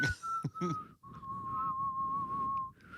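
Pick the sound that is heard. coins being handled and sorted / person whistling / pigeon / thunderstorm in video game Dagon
person whistling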